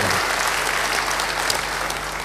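A church congregation applauds warmly during a sermon, dense steady clapping from many hands filling the room at even loudness from start to end, with a low hum beneath.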